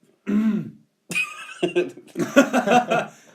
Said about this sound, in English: Thought I'd clear my throat before.